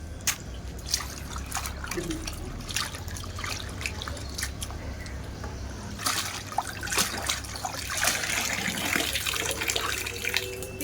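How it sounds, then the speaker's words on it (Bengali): Cut pumpkin pieces washed in rainwater, with a continuous trickle and gentle splashing, scattered drips and soft knocks close by, and a faint voice now and then. "তো কাটা কমপ্লিট, এবার আমি এটা একটু ধুয়ে নেব"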